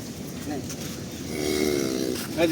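A cow, a large long-bodied milking cow offered for sale at a cattle market, gives a low drawn-out moo lasting about a second, close by amid background chatter and crowd noise.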